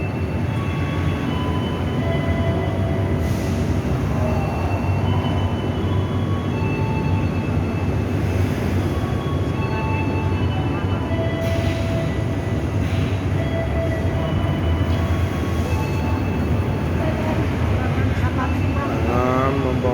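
Cermai passenger train, a long consist of executive, dining and economy coaches, rumbling steadily past Brebes station in Central Java, a loud continuous roar with brief wheel squeals near the end.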